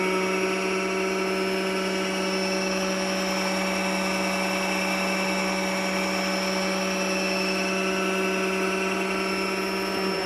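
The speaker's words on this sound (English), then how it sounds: "It's just winding the bobbin." A top-loading sewing machine winds a bobbin with a steady, high motor whine that holds an even pitch for the whole stretch, close and continuous, with no talking.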